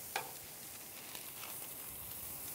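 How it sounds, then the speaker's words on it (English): Steaks brushed with herb oil sizzle oil-side down in a piercing hot pan, a steady soft crackling hiss throughout with a few brief sharper pops near the start, and no talk. "Nice sizzle, obviously the herb oil side down first."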